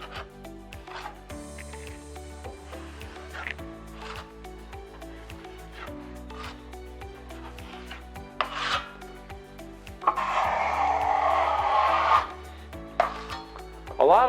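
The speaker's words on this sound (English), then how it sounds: "And then I'm going to apply a compound over the top of the tape." A taping knife spreads joint compound over FibaTape yellow drywall tape with soft rubbing, scraping strokes, growing louder and rougher near the end, while steady background music plays underneath.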